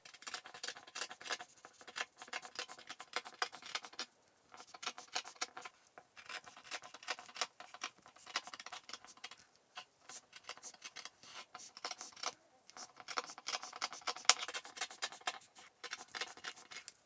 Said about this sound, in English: Next, we're going to cut out the patterns.